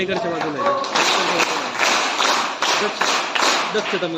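Students applauding together at a school welcome event, a dense burst of clapping that starts about a second in and keeps going, with a voice speaking at the very beginning.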